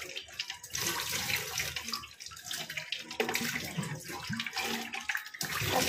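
Running water splashes steadily during washing in a household setting, a continuous broadband rush that holds for several seconds with small surges and no talk over it.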